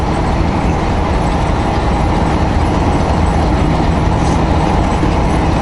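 Tire chains on a truck rattle and clatter continuously while it drives, a dense rolling metallic jingle over road noise.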